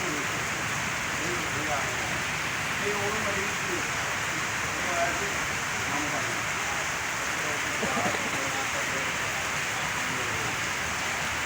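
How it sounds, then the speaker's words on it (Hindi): Heavy rain pours onto a road in a steady, dense hiss that holds at one level throughout, with faint voices murmuring beneath it. "बारिश तेज़ हो रही है साथियों।"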